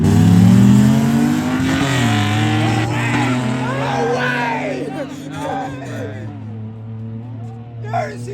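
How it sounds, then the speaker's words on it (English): A loud drift car engine, a BMW E36, revs and roars steadily during street drifting, pitch rising and falling with clutch kicks, with crowd chatter mixed in underneath. "Did he just clutch kick mid-race?"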